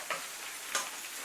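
Food stir-fries in a pan during home cooking of a simple evening meal, a steady soft sizzle with a couple of brief scrapes or stirs, close and alone without talk.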